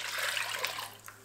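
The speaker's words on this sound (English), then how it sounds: "We're going to add in about 6 cups of water." Water pouring into a soup pot on medium heat while cooking a plant-based soup, a brief steady trickling splash that tapers off near the end.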